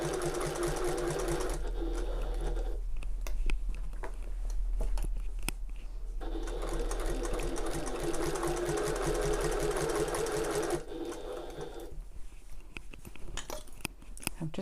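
A sewing machine stitches flat fabric for an open top tote bag in steady continuous runs, with brief pauses as the work is repositioned, close and alone.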